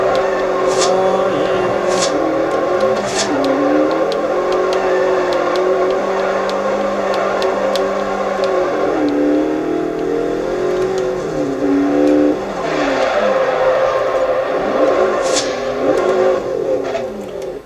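A BMW F10 M5 drifting in Forza Horizon 2 on Xbox 360, its engine revving loud and close for the whole stretch, with the pitch sweeping up and down and occasional sharp clicks and pops.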